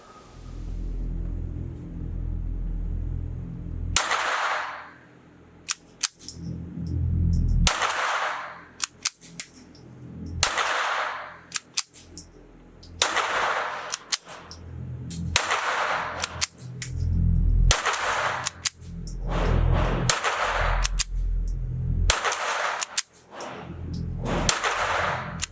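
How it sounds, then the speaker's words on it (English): A Ruger 22/45 Lite Mk IV pistol fires standard velocity .22 ammunition at a range, with sharp, loud single shots coming in irregular bursts separated by pauses. "I've never shot a Ruger Mark IV before this"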